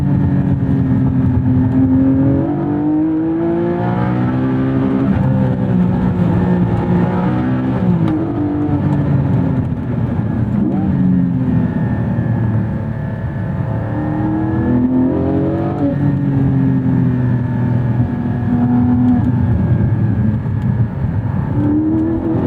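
A Porsche 718 Spyder's mid-mounted engine pulls hard in second gear on a street drive, its loud cabin drone rising and falling in pitch as the throttle swells and eases, with no talking over it.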